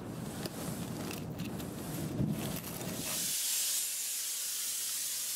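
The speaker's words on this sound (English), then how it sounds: "Here we're grit blasting the tower to remove all scale and buildup from the stainless steel." Grit blasting strips scale from a stainless steel cooling tower, a steady broadband hiss and roar of abrasive spray that shifts to a brighter, smoother rush partway through, continuous and fairly close.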